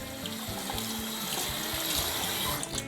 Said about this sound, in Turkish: kabarcık çıkmayana kadar güzelce doluyorum.